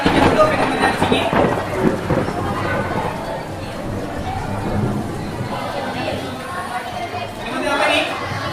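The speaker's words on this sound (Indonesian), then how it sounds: "Kilat" Rumbling thunder rolls through a storm with steady rain, loud and continuous with swelling peaks, and people's voices mix in under it.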